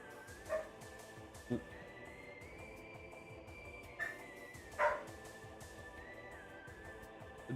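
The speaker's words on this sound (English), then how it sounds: "Dog, if you can hear the dog" A pet dog barks and yips a handful of times at a moderate distance, in separate short bursts spread irregularly over a steady low indoor hum.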